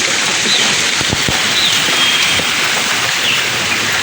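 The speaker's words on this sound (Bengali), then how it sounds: "দেখো কেমন বৃষ্টি হচ্ছে" Dense, loud rainfall pours down continuously, a bright hissing roar with a few sharper splashes or knocks near the start.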